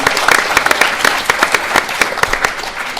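A round of applause at a women-in-sport gala day for a rugby league prop, individual claps standing out sharply within a steady, moderately loud crowd patter.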